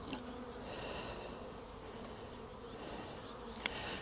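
Honeybees buzz steadily on top of a beehive during a May inspection, a soft, dense, even drone with a brief sharper flick near the end.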